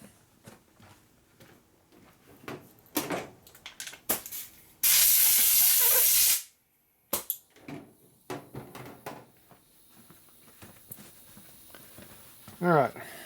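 A harsh burst of compressed air blows out a 1960s Harley-Davidson XL Ironhead kicker ratchet plate for about two seconds, loud and close, set among scattered metallic taps and handling noises while someone talks.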